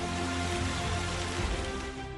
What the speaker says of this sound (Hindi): बारिश हो रही है और ओले भी पड़ रहे हैं।